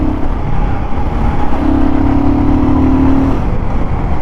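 A Royal Enfield Guerrilla 450 motorcycle engine hums steadily and loudly while the bike filters through traffic, with a sustained mid-pitched drone rising slightly in the middle, no voices.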